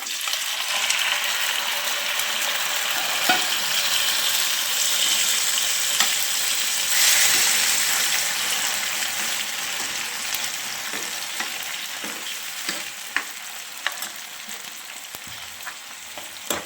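Tomatoes frying with cumin in a hot pan, a steady bright sizzle running throughout, with occasional scrapes and knocks of a spoon stirring, close and fairly loud, no voices.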